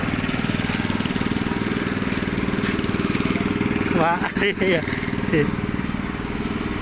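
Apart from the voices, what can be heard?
motorized drill boring into the ground at housing site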